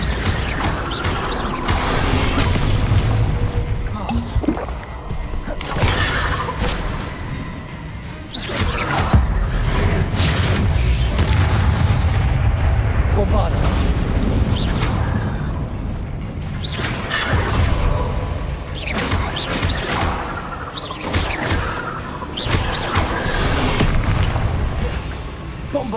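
Bombarda spell blasts in Hogwarts Legacy during a poacher fight, loud repeated booms and bursts packed densely across the whole stretch amid constant clattering combat noise and music.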